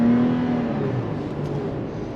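A 2023 Toyota 4Runner Anniversary Edition accelerates on throttle through a left-hand bend, its engine a steady, loud drone heard from inside the cabin, easing slightly as it holds the pull.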